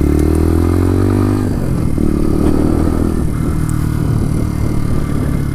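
A Bullit Hero 125 scrambler motorcycle engine drones loud and close while being ridden, with a steady humming exhaust note that shifts slightly in pitch as the throttle changes, plus some rattling wind noise throughout.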